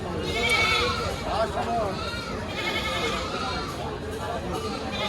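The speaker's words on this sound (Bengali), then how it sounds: "এর পাশে একটা মামা ছাগল রয়েছে" Several goats bleat repeatedly at a livestock market selling large castrated goats for Qurbani, the calls wavering and close over a busy crowd murmur, with people talking throughout.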